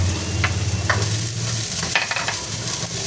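Garlic and onion sautéing in a pan while being stirred, with a loud, steady sizzle near at hand and repeated spatula scrapes and taps against the pan.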